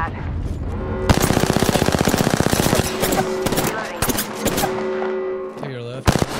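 Automatic gunfire in the video game Apex Legends, with a loud rapid burst of shots followed by further bursts and single cracks, close and dominant over the game sound.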